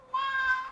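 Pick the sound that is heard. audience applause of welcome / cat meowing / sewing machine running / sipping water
cat meowing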